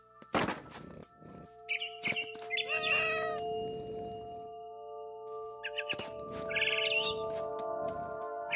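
In the game What Remains of Edith Finch, a cat gives a few short meows amid clunks and chirpy bird calls over a faint steady tone.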